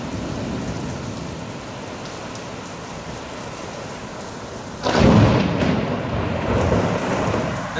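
A powerful supercell thunderstorm with hail and close strikes pours steady heavy rain, then a loud thunder crack bursts in partway and rumbles on over the downpour.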